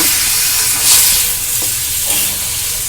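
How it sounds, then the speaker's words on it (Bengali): Ginger-garlic paste is stirred into a capsicum chop mixture frying in a pan, giving a loud, close sizzle with a steady hiss and soft scraping stirs throughout. "এবার দিয়ে দেবো এই আদা রসুন বাটার যে পেস্টটা আমি করে রেখেছিলাম, সেই আদা রসুন বাটার পেস্টটা দিয়ে ভালো করে মিশিয়ে নিয়ে"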